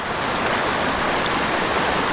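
A small mountain creek pours over little waterfalls and plunge pools, a steady close wash of rushing water with no break, loud and even throughout.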